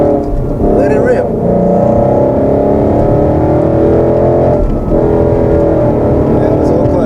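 A Ford Mustang 5.0 engine roars loudly and steadily for several seconds, its pitch shifting as it revs, with voices talking over it.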